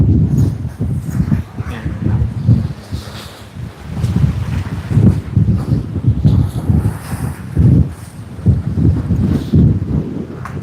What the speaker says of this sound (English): hopefully the wind just dies out